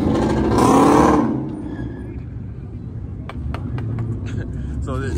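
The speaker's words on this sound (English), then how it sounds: "everyone's doing burnouts and ripping" Cars at a crowded car meet in Albuquerque rev hard and do burnouts, a loud engine roar that swells and fades, then gives way to a rumbling background with sharp squeals and crowd noise.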